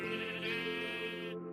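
A single sheep bleats in Minecraft, one clear, sustained, wavering cry heard alone and fairly quiet.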